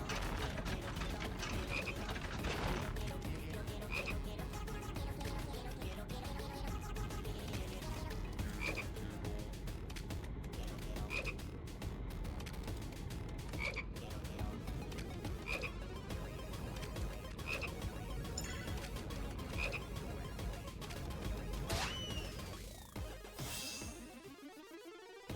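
Frog croaks from a Final Fantasy VII Rebirth hopping minigame repeat at a steady, regular pace over a dense, busy game soundtrack, ending in a sweeping effect.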